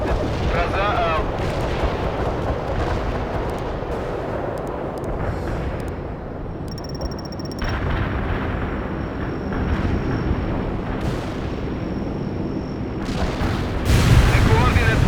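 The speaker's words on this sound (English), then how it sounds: "Carpet bombing requested." Carpet bombing in World in Conflict booms as a continuous heavy roll of explosions and artillery-like blasts, loud and dense throughout, with a sharper burst near the end and radio chatter faintly mixed in.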